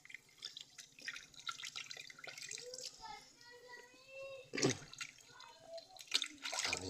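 Food being washed under a running kitchen tap, with faint trickling and dripping water and soft splashes, quiet and close, with a couple of sharper splashes near the end.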